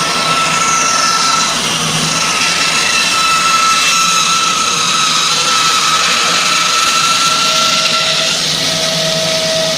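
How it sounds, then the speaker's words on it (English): A power saw cuts a board out of a piece of scrap wood, a loud, steady whining drone with sustained tones throughout, close and uninterrupted, with no talking. "I will now cut here the board out of this piece of scrap wood for the puzzle connectors"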